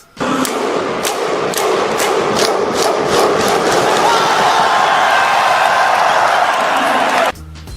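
An audience at a stage play bursts into loud, steady applause and cheering with sharp claps cutting through, which sustains for about seven seconds and then stops abruptly.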